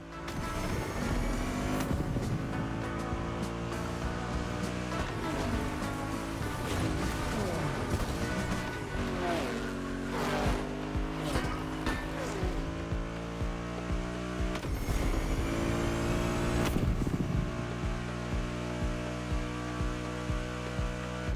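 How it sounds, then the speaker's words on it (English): A 1969 Camaro Z28 drives in The Crew Motorfest, its engine droning with rising and falling revs and gear changes over a steady hum, with a few crashes and a voice talking now and then. "Good thing you're driving the 1969 Camaro Z28."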